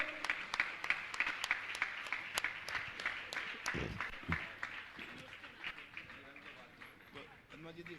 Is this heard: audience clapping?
yes